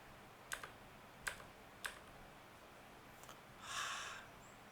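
Three separate, crisp clicks of an Enter key being pressed on a computer keyboard in a quiet room during a Linux dual-boot install, followed by a brief soft rustle.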